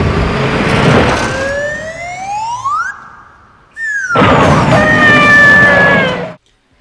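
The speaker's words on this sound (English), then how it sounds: "the slide whistle sound effect still is one of the most infamously bad" A comic slide whistle glides upward, breaks off, then swoops back down over loud roaring car noise during the corkscrew car jump stunt from the Bond film The Man with the Golden Gun.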